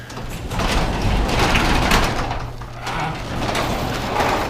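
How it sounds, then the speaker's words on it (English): A door opens outdoors near a smoker and griddle, giving a couple of sliding, scraping mechanical rumbles with bumps, close and moderately loud, with no voice over it. "So right now, I'm gonna open up the door here."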